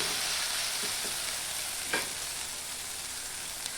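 Ginger paste frying in a pan for boti (tripe) curry, a steady low sizzle throughout with a brief stir or scrape near the middle, no voices.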